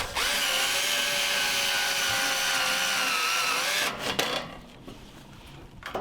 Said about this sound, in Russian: И вот такими саморезами я прикручиваю.